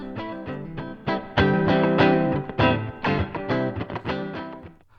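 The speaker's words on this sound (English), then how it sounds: "what you're hearing right now is just a looper." Looped electric guitar playing back through a Line 6 Pod Express looper, with strummed chords and picked notes in a steady rhythm, moderately quiet and with no voice over it.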